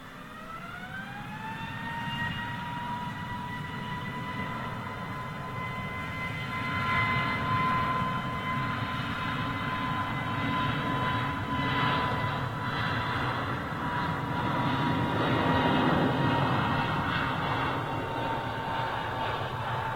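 A jet airliner at Toulouse roars through a rejected takeoff test, a loud continuous engine rumble with rising whining tones that climb and then hold steady, swelling and easing over the full span with no talk.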